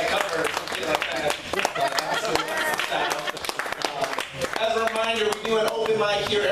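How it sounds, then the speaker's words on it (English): An audience at a comedy show claps for the bartender, steady applause rising and falling in the room while a comedian keeps talking over it. "so clap it up for her"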